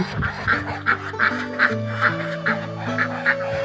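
Repeated loud quacks from Muscovy and native ducks close by in a backyard, coming in a regular series with a low drone running underneath.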